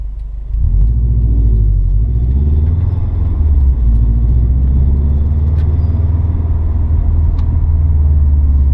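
A car engine drones steadily from inside the cabin of a Subaru fitted with a Cobb AccessPORT V3 tune and SF intake, a loud low rumble with slight shifts in pitch as the vehicle drives along.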